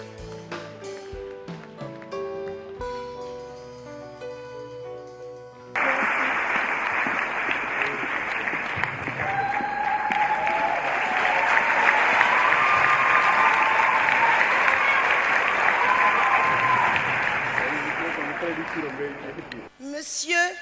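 An audience in a grand theatre breaks into sustained, loud applause during a Valentine's Day concert by a cathedral choir group, following a stretch of singing and music, with the clapping building and holding steady before fading.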